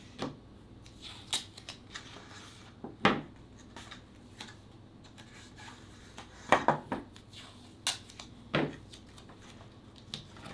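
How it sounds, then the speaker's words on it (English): Short strips of tape are torn off a roll and pressed down while a small 1:48 scale toy model theater is being assembled, giving quiet scattered rips and crackles with pauses between them. "I'm going to get a couple pieces of tape so we can"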